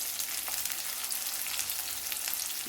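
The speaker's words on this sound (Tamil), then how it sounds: "வெங்காயம் நல்லா வதங்கட்டும் வெங்காயம் வதங்கிட்டு இருக்கிற நேரத்துக்கு" Small onions sautéing in a pan for a dumpling curry, a continuous soft hiss of frying throughout, even and unbroken, with no voices.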